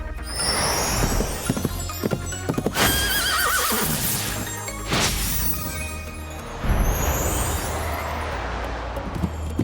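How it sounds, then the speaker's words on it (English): The Rainbow Sky Horse in the Lego Party video game neighs loudly and repeatedly over clip-clopping hooves, with bright magical whooshes and crashing game effects layered on top and no talk. "Thank you, Rainbow Sky Horse!"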